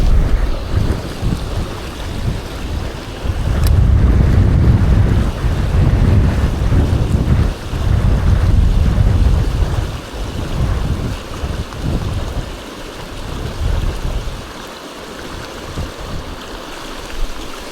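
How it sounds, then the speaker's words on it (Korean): Strong gusting wind roars across the microphone beside a mountain stream during trout fishing, with loud low rumbling buffets that swell and ease over the whole stretch, water faintly beneath, no talking. "바람이 생각보다 많이 터졌습니다"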